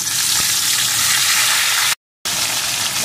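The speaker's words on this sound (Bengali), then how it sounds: "এখন আমি লবণ হলুদ মাখানো মাছগুলোকে প্রথমে ভালো করে ভেজে নেব" Rohu fish head frying in hot oil, a loud continuous close sizzle with crackling spatter, briefly cut to silence before resuming.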